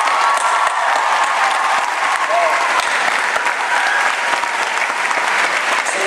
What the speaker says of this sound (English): Let us applaud our teachers.